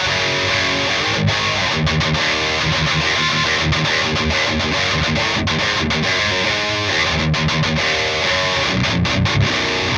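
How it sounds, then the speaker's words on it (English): Electric guitar played through a Marshall JCM 800 amp with an overdrive pedal in front, heavy distorted riffs with chugging palm-muted notes, loud and continuous for the whole stretch. "Next one switches amp to the Marshall JCM 800, and this has a long sword overdrive in front of it, and this one is called JCM Rock."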